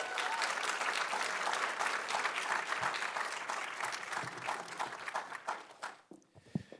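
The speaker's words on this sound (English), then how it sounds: "Thanks, everybody, for who clapped." Audience applause welcoming a speaker onto the stage at a university fellowship conversation event, steady dense clapping from a crowd that thins out and fades near the end, followed by a few isolated claps and footsteps.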